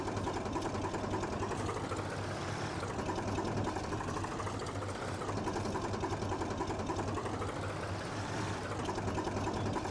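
A snowblower engine from Farming Simulator 19 runs steadily at a constant moderate hum with a fast buzzing rattle, no pauses or speech, heard at low level throughout.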